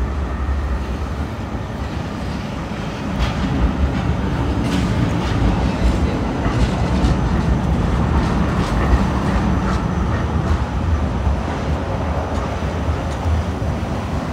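A tram rolls along an Oslo street on a summer day, a continuous rumble with rhythmic rail clicks and clacks that stays loud and steady for the whole stretch, with no voices.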